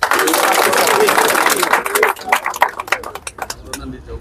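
Audience at a political rally in Cameroon applauding, a dense burst of clapping that thins into scattered individual claps toward the end, with voices mixed in.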